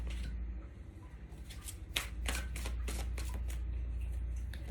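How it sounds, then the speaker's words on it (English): Tarot cards are shuffled by hand in a quick riffling burst of crisp flicks and slaps, close and fairly quiet over a low steady hum, with no talk. "while I was shuffling, cards were flying out left, right, and center"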